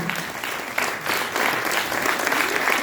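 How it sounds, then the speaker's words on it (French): Audience at a film screening applauds the crew, a dense burst of steady clapping, fairly close and uninterrupted. "on peut vraiment encore les applaudir"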